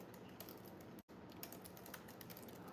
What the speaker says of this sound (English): typing is a nightmare here